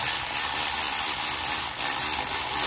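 A ratchet turning a head stud down into a Honda 400EX quad engine during a 400cc big bore rebuild, heard as a steady, continuous mechanical rasp at close range with no talking.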